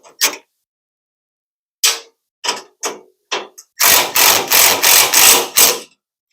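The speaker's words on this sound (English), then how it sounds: "These little 1/4-inch impact drivers, they really save the day on this stuff." A 1/4-inch impact driver running bolts into a tool cart, several short sharp bursts with silent gaps, then a longer loud hammering rattle near the end, close and without talk.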